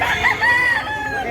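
A big rooster at a farm in Consolacion, Cebu lets out a single close, drawn-out crow lasting about a second, with faint background noise.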